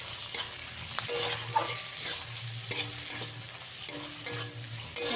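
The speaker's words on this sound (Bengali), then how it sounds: "পেঁয়াজটা আমার ভাজা হয়ে গেছে এবারে এর মধ্যে দিয়ে দিতে হবে টমেটো কুচি" Chopped tomatoes are stirred into frying onions in a pan for egg tadka, with a constant sizzle under repeated scraping strokes of the spoon and a few louder knocks, close and with no voices.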